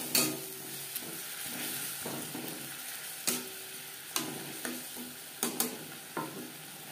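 Spices and onion fry in a pan while a spoon stirs them: a steady close sizzle runs throughout, punctuated by several sharp scraping knocks of the spoon against the pan at irregular intervals.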